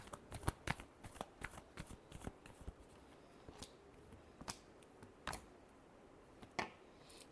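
A deck of cards is shuffled for a reading, giving a series of crisp, close riffles and snaps at an uneven rhythm against a quiet background.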